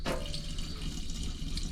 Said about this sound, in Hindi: पानी आ रहा है